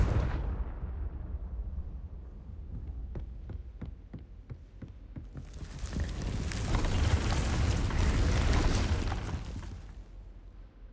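Confringo fire spell in the Hogwarts Legacy video game, a deep booming blast followed by a series of quick crackling ticks, then a loud roaring, hissing burst of fire that swells and slowly fades.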